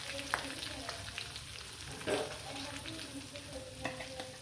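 A vaghar (tempering) sizzles in a pan for a dry potato sabzi, a Shivratri fasting dish. The frying hiss is steady and close, with stirring scrapes and a few sharper pops and no speech.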